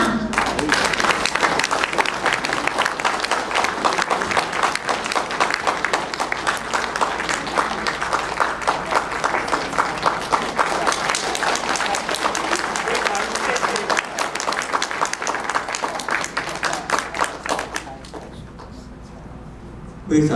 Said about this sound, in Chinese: 我们请为他鼓掌